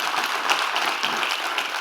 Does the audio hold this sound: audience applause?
yes